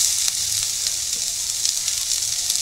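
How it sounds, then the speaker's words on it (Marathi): Chili peppers sauté in a hot pan while a veg momo filling is being cooked, giving a loud, steady, close hiss of frying and sizzling throughout. "आणि ही मिरची चांगलं परतून घ्यायचं आपण."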